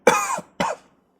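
Two harsh, close coughs from a man in quick succession, the first longer with a throaty rasp, the second shorter, then silence.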